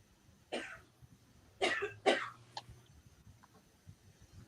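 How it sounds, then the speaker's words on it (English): Several harsh coughs sound at moderate distance, a single cough followed by a quick pair and a fainter last one, with quiet pauses between. "Somebody's got a bad cough."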